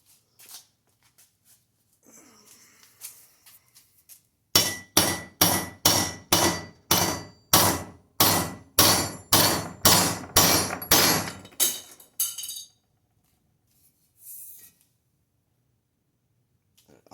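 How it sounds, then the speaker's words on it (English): A sledgehammer strikes a BMW N20 turbocharger part about a dozen times in a fast, evenly spaced run of sharp, loud metallic blows, preceded and followed by quieter handling noises. "whacking it with a sledge was a dumb idea"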